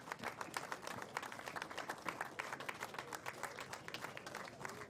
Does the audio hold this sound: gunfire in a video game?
no